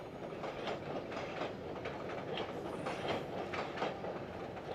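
An AEM7 electric locomotive of 7,000 horsepower hauls a train on the Northeast Corridor, a steady close roll of wheels with a faint rhythmic clickety-clack running through the whole stretch.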